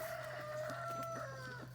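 A Brahma hen clucks in a farmyard, a short series of soft rhythmic clucks with a drawn-out tonal call, close but faint over a low steady hum.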